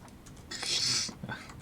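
Computer keyboard typing during a Satisfactory gaming session, a short burst of fairly loud key clatter in the middle with quieter taps before and after, heard alone.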